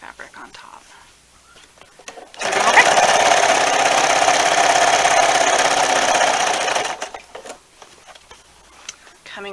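A sewing machine stitches binding onto a quilt in a steady, fast mechanical run of several seconds, with quiet talk before and after.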